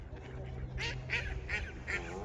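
A goose honks several times close by in short, nasal bursts over a low, steady hum.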